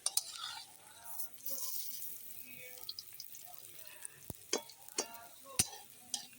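Lentil fritters (bora) fry softly in oil as they are turned over, a low sizzle broken by scattered sharp clicks and taps of a utensil against the pan.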